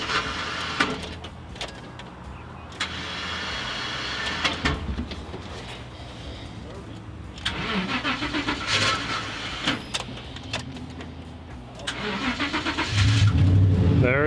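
A Ford F150 with frame damage and a troubled starter cranks in several uneven bursts with clanks between, then catches and settles into a running engine near the end, heard close with no talk.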